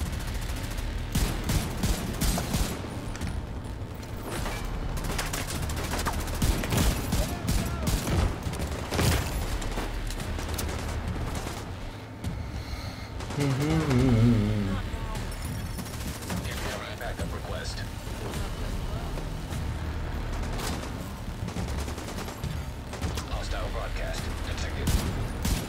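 Sustained video game gunfire in Tom Clancy's The Division 2: repeated close bursts and automatic fire keep going almost without a break, with talk heard intermittently over the shooting.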